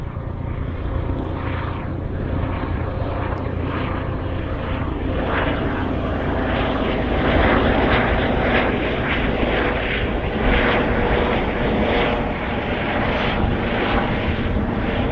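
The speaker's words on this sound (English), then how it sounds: "I think it is a heli, it looks like." A helicopter passes overhead near Hawarden Airport, its loud, steady rotor and engine roar holding throughout with a slight rhythmic pulsing and no talk.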